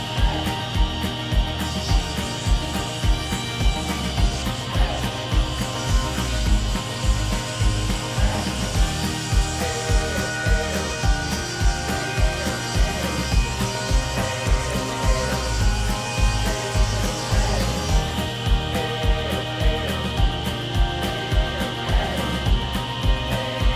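An oak board is cut down to width, with steady, rhythmic sawing strokes repeating evenly. The sound is close, with a rasping wood-on-blade texture and no voices.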